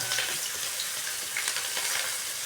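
Sliced onions frying in hot oil with bay leaf and cumin seeds for an aloo methi dish, a steady close sizzle with faint stirring and no voices.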